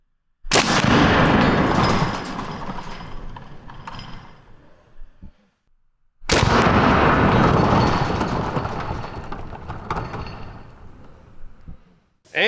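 A ZEUS .72 caliber air rifle fires a 650-grain hollow point into two stacked cinder blocks, shattering them: two loud, sharp blasts about six seconds apart, each followed by a long rumbling decay with no talk.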